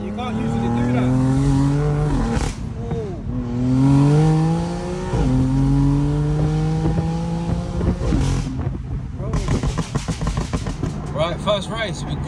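A tuned 610 bhp BMW M4 accelerating hard in a night race, its engine note climbing loudly through three rising pulls separated by brief gear-change dips, ending in a harsher, noisier burst.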